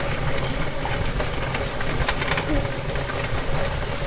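Steam hisses steadily and loudly from a pressure canner vent while bean and greens soup is canned, a constant dense rush with a faint engine-like rumble underneath.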